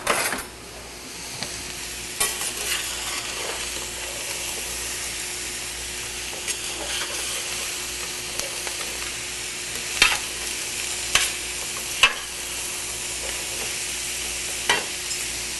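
Two large yellow squash and two large zucchinis fry in a pan with a steady close sizzle, while a utensil stirs and scrapes through them in occasional clinks and knocks.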